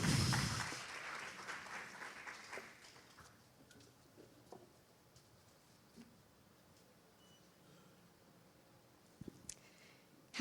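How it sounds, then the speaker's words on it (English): Audience applause greets a speaker taking the stage, strong at first and then thinning out over a few seconds into near silence, with a few scattered claps and bumps near the end. "A big round of applause."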